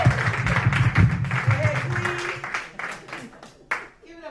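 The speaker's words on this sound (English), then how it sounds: "Give her one more round of applause." Audience applause and clapping for a co-host at a Juneteenth 2019 event, running under a talking voice through most of the stretch and thinning out toward the end.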